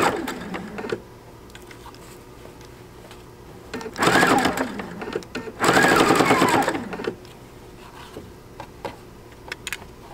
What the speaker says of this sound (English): I'm sitting in front of the PFAFF Creative Icon, and I'm making a bapron with this new quilt binding attachment by PFAFF.